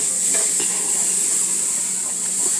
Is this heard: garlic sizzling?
yes